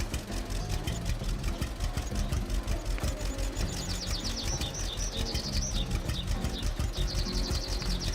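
A tractor idles steadily in the farming video game Farmers Dynasty 2, a low continuous engine rumble running the whole time, with bird chirps and tweets scattered over it.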